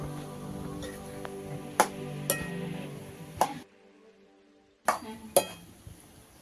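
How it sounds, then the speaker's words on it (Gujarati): A spoon scrapes and clinks against a pan while a mushroom curry gets mixed, with light sizzling under it, then a brief pause before a few more clinks. "હવે આપણે મિક્સ કરી દઈએ."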